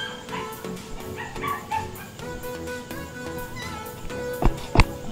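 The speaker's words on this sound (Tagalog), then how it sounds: "Maingay ang mga aso." Several dogs bark and yip repeatedly at a moderate distance in Madridejos, with a couple of louder, closer barks toward the end amid outdoor background noise.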